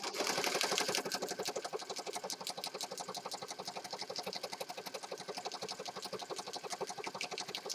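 A sewing machine stitches through a handmade peacock-themed journal in a fast, steady mechanical chatter that runs close and continuous throughout, with no talking.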